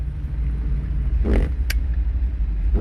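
A car drives along a road in Brazzaville, Congo, in the rain, a steady, loud low engine rumble with road noise and a brief brighter swell partway through.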